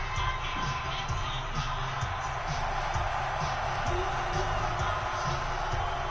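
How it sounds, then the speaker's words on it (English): A wrestling crowd on its feet cheering for Alex Ramon, a steady, dense roar of many voices with scattered whoops, heard at a distance under a commentator talking. "Crowd's on their feet. They seem to be really behind Alex Ramon, actually."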